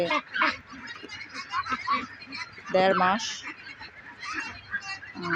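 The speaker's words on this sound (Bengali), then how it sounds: "এখানে হাঁসা আছে কিছু" Young Pekin ducks raised for eggs quack and honk in short bursts around a farm, while a person talks nearby.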